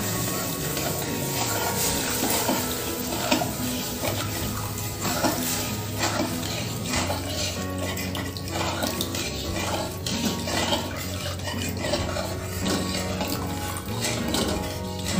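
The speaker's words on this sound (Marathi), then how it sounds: "आता आपण गुळाचे पाणी थोडे थोडे टाकत जाऊ" Jaggery water is poured gradually into a pan of sautéed spice masala while it is stirred, making a steady splashing, watery pour with clinks of the utensil against the pan throughout, no speech.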